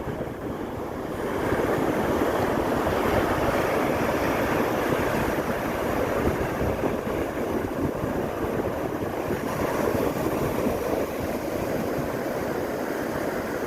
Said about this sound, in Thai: ลมพัดเข้ามา ก็จะสะสมลมแล้วก็กระทบเข้ามาหาฝั่ง